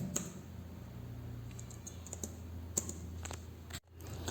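Someone types an nslookup command on a computer keyboard in a quiet room, with a run of light, irregular key clicks and a few sharper taps, close to the microphone and with no voices.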